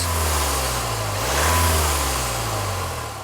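A compact four-cylinder diesel engine in a 2017 Jaguar XE R-Sport hums steadily, rising briefly in pitch as it revs, then settling back to a low, even drone.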